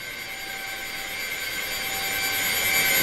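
E-flite A-10 64mm electric ducted-fan model jet making a low pass, a steady high-pitched whining whoosh with sharp tonal lines that grows gradually louder as it approaches.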